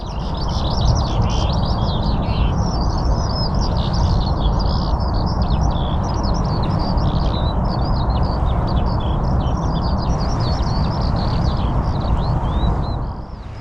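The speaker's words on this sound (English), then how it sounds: "the sound of those birds, yeah, it's pure therapy" Birds chirp and warble continuously by an estuary near the Severn Bridge, over a loud rushing wash of wind or water, with many overlapping calls throughout.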